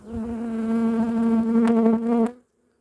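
A single honeybee at an apiary hums loudly right up close in a steady, tonal drone for about two seconds before abruptly falling silent.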